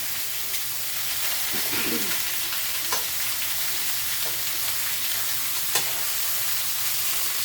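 Pork sears in a pan on a stovetop, a continuous hissing sizzle with occasional light clinks and scrapes of turning, steady and close throughout.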